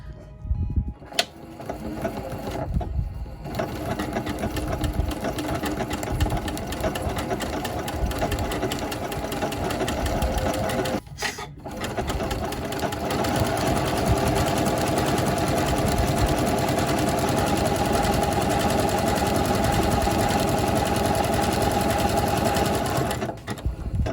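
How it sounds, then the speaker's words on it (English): A sewing machine runs an overcast stitch with an overcast foot along a raw fabric edge, a fast, steady mechanical chatter at close range that continues with two or three brief pauses and no speech. "Now what an overcast stitch is going to do is it's going to create that triangle pattern"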